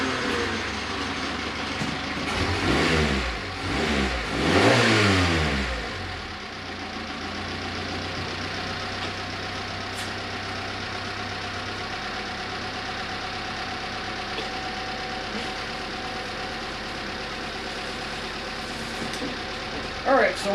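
A 1988 Ford Festiva engine revs through a new muffler, rising in two close revving bursts before settling into a steady, fairly quiet idle that runs on alone.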